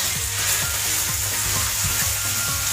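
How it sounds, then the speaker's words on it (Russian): Chicken meat frying in a pan for a funchoza salad, a loud, close, steady sizzle and crackle with repeated rhythmic scraping strokes as the pieces are stirred, no voices. "пока жарится мясо"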